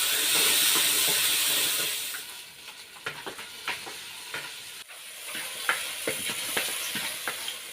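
Onion and green chilies hit hot oil with fennel seeds, giving a loud, dense sizzle at first. It settles into quieter frying broken by repeated scrapes and clinks of stirring in the pan.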